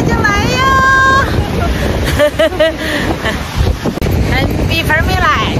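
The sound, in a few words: waves and wind at the ocean beach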